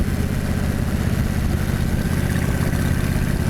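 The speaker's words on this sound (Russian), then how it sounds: "Как это кайфово закладывать мотоцикл в поворотах." A Honda VTX1300 motorcycle engine drones steadily while riding on the road, a loud, constant mid-pitched hum mixed with rushing wind and no talk.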